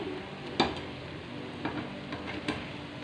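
Dahi vada fritters sizzle steadily in hot oil in a pan, with a few soft clinks and scrapes as they are turned, the frying hiss low and continuous throughout.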